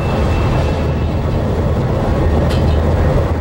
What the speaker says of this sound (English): Our train will start.